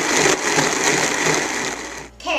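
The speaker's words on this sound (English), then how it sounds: "don't run your blender too long" A blender grinding almonds and water whirs loudly and steadily with a dense grinding roar, then cuts off abruptly near the end.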